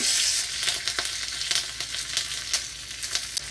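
Ginger paste, curry leaves and a pinch of hing fry in hot oil for a tempering, giving a continuous close sizzle with crackling pops and spits throughout.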